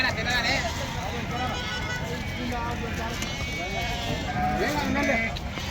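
Sheep bleat repeatedly at a busy livestock market, their cries overlapping and layered under constant nearby talking and crowd noise, with the bleats rising and falling throughout.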